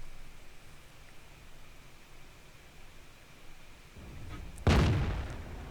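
A tank cannon in a video game fires a single heavy shot at an enemy's weak spot: a sudden loud boom near the end that rises out of a low rumbling background and then trails off.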